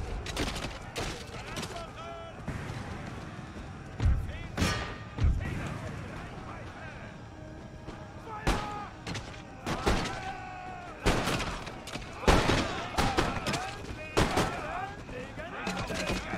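Volleys of massed musket platoon fire from Prussian line infantry in Empire: Total War crackle in rolling chunks, with heavier booms mixed in, while someone talks over the battle.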